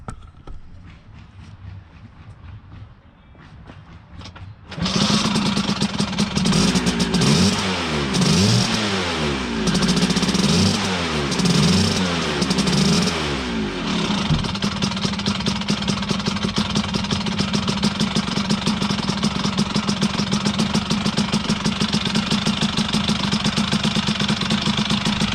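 A 1982 Vespa scooter engine starts cold in the open air after a few quiet clicks, blips and revs unevenly for several seconds, then settles into a loud, steady two-stroke idle close by.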